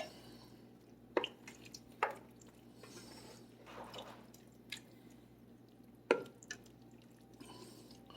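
Pre-cooked bell peppers are stirred into a pot of stuffed bell pepper soup: quiet wet squishes and a few soft, sharp drips and taps spaced irregularly, close up with no talking.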